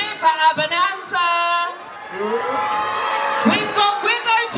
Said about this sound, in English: And we want a big cheer for Abonanza.